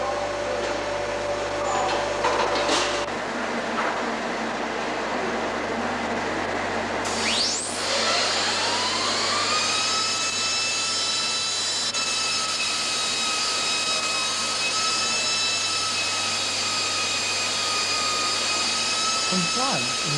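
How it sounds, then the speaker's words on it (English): An air-driven high-speed engraving tool mounted on a Puma robot spins up partway through into a piercing, steady whine. The whine holds with sharp tonal overtones over a constant machine hum. "The engraving station comprises of an air-driven high-speed engraving tool mounted on a Puma robot."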